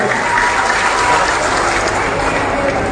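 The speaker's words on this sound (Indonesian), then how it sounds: "Kita beri tepuk tangan untuk Pak Syarif." A crowd at a political campaign rally in Jambi, Indonesia claps loudly and steadily, a dense wash of applause that stays constant from start to finish.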